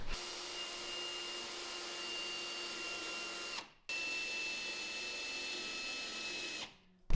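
A power drill runs steadily as it drives self-tapping screws into metal for a container workshop build, whining continuously for several seconds, pausing briefly, then running again close by.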